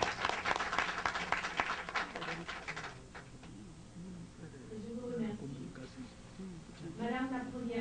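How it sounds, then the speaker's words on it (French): An audience at a formal ceremony in the USA honouring Côte d'Ivoire's First Lady claps loudly for about three seconds; the applause then thins out as a voice carries over a quieter room. "que je vous demande d'applaudir"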